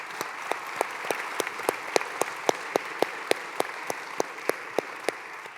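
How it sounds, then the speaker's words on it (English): Audience applause for a panel at a sustainable product innovation event: steady, moderately loud clapping from a crowd throughout, with a few sharper claps standing out at a regular pace. "Give this a great panel a round of applause"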